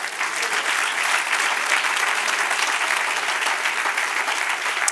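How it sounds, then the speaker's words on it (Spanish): A church congregation applauds the Lord during a Spanish-language evening worship service, producing a full, continuous wash of many hands clapping at an even level throughout, with no voices standing out. "Den un aplauso al Señor."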